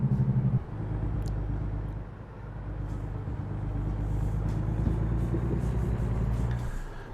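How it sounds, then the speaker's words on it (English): A heavy truck in American Truck Simulator with the Jake brake engaged, a loud, continuous low engine rumble and drone that holds steady throughout, with no voices. "So I do have the Jake brake enabled"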